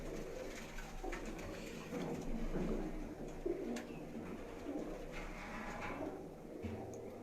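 Soft, low cooing of black-faced Sialkoti pigeons on a rooftop murmurs steadily, with occasional rustles and knocks nearby and no talking.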